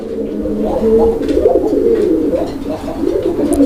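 A male Indian Kagzi pigeon coos up close in low, throaty, rolling phrases, repeating several times with a soft warble and faint background noise.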